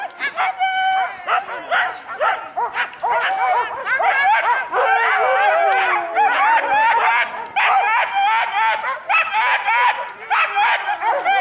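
A pack of excited sled dogs yips, barks and whines continuously in overlapping bursts at a dog sledding outing, loud and close with many animals at once.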